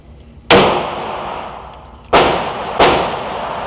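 Three loud, sharp gunshots from an HK VP9 pistol fired one-handed, spaced unevenly with a ringing decay after each, close to the listener.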